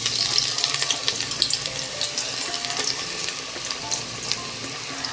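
Chopped onions fry in hot mustard oil, a dense, close, steady sizzle with faint crackles and occasional stirring, no voices.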